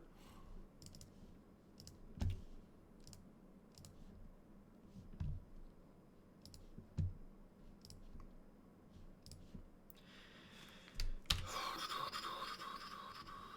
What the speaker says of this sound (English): I am shuffling my shuffling deck, which is protected by my BCW Elite Guards, so they don't get damaged.